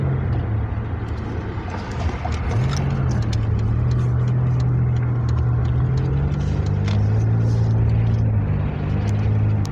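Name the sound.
cars passing in road traffic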